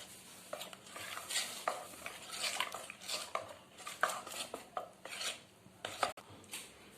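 Vattayappam batter being mixed with coconut milk in a bowl: quiet wet stirring and repeated spoon scrapes and clinks against the vessel in an irregular rhythm, close and fairly soft, no talking.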